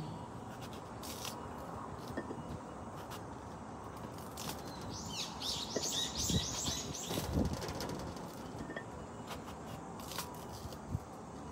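Birds chirp outdoors among the noise of wind and passing vehicles, with faint, scattered calls and one short flurry of chirps midway.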